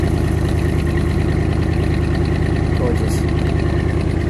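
A 1957 Cadillac Eldorado Biarritz convertible's engine runs at a steady, loud idle with a dense low rumble that holds constant throughout, with no clear rev.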